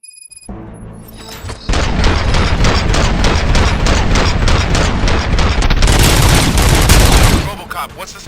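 Rapid, continuous automatic gunfire in the video game RoboCop: Rogue City, with booming bursts, loud and close, lasting several seconds before cutting off abruptly.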